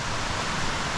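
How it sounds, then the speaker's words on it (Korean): Steady broadband rush of a stream near Yongseo Falls on a forest hiking trail, a continuous, even wash of water with no breaks and no voices. "조금만 더 가면 이제 용서폭포가 나오는데 지금 물소리 들리시죠?"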